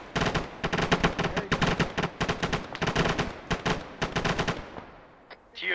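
Artillery guns firing in Arma 3: a dense run of rapid, loud blasts in bursts, with short gaps between volleys, trailing off into quiet before a final burst.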